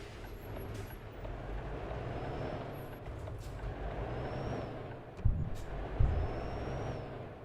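A truck engine drones steadily in Euro Truck Simulator 2 with the ProMods map, a low continuous rumble broken near the end by two short hissing air-brake bursts.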